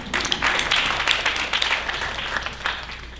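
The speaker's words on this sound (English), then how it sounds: "So a round of applause for you guys." Dense, sustained applause from an audience at a Bharatanatyam arangetram, steady crowd clapping filling the room for several seconds with slight swells, no voices on top.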